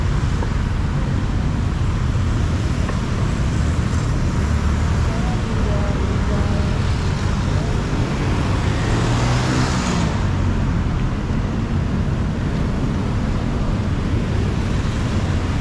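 Dense street traffic in Asoke, an upscale district of Bangkok, a loud continuous roar of cars and buses passing close by, with a heavier vehicle swelling past near the middle.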